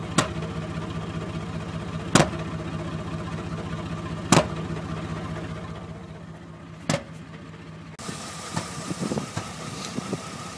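Truck engine idling roughly during a tune-up, with a low uneven rumble broken by several sharp knocks and misses spaced a few seconds apart.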